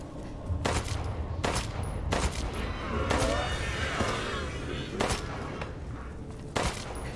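Loud, sharp gunshots in the video game Resident Evil Village fire in an irregular series over a noisy, chaotic background, with a burst of rapid fire partway through.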